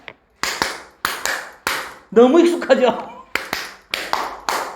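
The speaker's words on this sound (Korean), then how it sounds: "우리 축구 박수잖아. 대한민국 따닥 따닥 따" Sharp hand claps beat out the Korean football cheer rhythm in a classroom, crisp close strokes grouped in short bursts, with someone speaking briefly between the clap groups.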